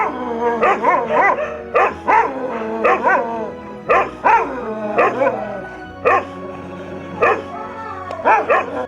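A Rajapalayam dog barks repeatedly in loud, close bursts, with short gaps between groups of barks and some whining, yipping tones throughout.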